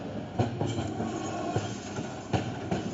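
A train rolls along rails in a Danish film scene, with a steady low rumble broken by rhythmic clickety-clack wheel knocks at a moderate distance and no speech.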